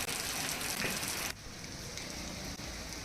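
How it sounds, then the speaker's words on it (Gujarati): Heavy rain pours down from dark, gathered clouds over Gujarat, a dense, unbroken roaring hiss that dips slightly partway through but stays loud and constant throughout. "ક્યાંક કાળા ડિબાંગ વાદળો છે જે ઘેરાઈને આવેલા છે ને વરસાદ રૂપે તૂટી રહ્યા છે"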